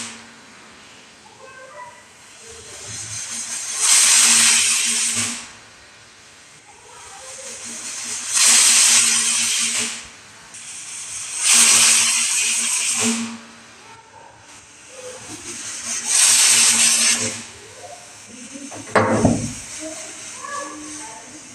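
A pressure cooker cooking Tuli's food lets out four loud, evenly spaced hissing steam whistles, each lasting about two seconds, with soft talk in the background between the blasts.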